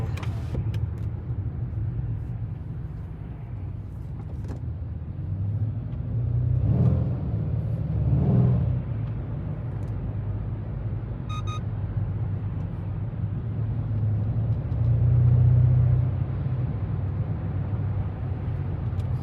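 Traffic heard from inside a 2008 Dodge Charger SRT8 on a busy Friday-evening road: a steady low engine and road rumble with cars swelling past twice, continuous and moderately loud, no talking.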